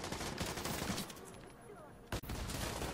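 Gunfire in a video game, heard as a dense, continuous rattle of shots that runs fairly quietly throughout, with one sharper report near the end.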